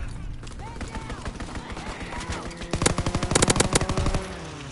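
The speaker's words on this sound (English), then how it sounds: "Strafing run inbound." Machine-gun fire from a strafing run in an online shooter game, a dense rattling burst of rapid shots that builds toward the end, mixed with game noise and a person talking.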